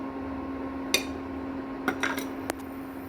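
Chironji seeds frying in a pan for sheer khurma give off a few sharp, scattered pops and crackles over a steady low background hum, with no talking.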